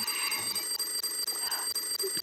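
An alarm clock beeps in rapid, evenly spaced pulses, the steady high-pitched ringing continuing throughout at moderate loudness, with faint background sound and no voices.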